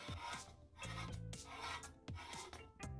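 A utility knife blade scrapes again and again along the same line on an aluminium soda can being made into an alcohol penny stove, giving close, rasping strokes in a steady rhythm with short pauses and no talking.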